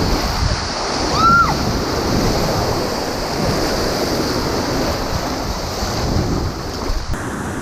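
Small waves breaking on a steep beach, heard as a continuous loud wash of surf with heavy wind buffeting the microphone, no distinct individual breaks standing out.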